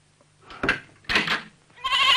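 A sheep in an animated series bleats three times close by, each call short and rising, separated by brief quiet gaps.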